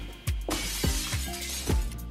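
Glass shattering in several sharp crashes, each burst followed by tinkling fragments, loud and close with brief gaps between the breaks.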